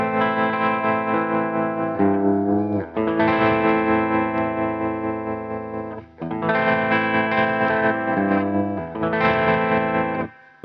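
Sustained distorted electric guitar chords through a Dophix Galileo optical tremolo pedal ring out in long swells with brief gaps, a wavering, pulsing shimmer running through the held notes.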